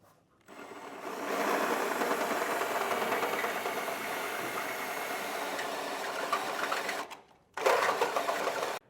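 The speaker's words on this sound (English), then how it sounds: "So we're just going to take this grinding bit and run it up through there so that we can fit our bolt." A power tool with a grinding bit enlarging a factory hole in the frame of a 2024 Chevrolet Traverse for a trailer hitch: a sustained, close buzzing whine for about six seconds, a brief stop, then another short burst.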